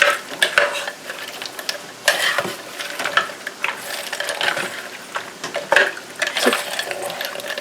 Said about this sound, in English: So I'm just going to mix this up for a second.